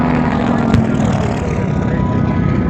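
Propeller airplanes of the Japanese strike force approaching, a steady, dense engine drone with a low throbbing hum that holds constant throughout, loud and continuous.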